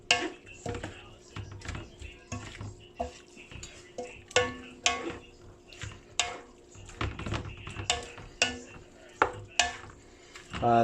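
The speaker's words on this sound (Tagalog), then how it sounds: "Haluin natin." Pork dinuguan being stirred in a metal pot, a spoon scraping and knocking against the sides in repeated clatters with soft liquid sloshing, close and fairly loud, with brief speech now and then.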